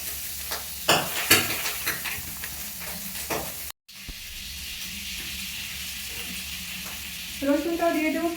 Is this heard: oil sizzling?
yes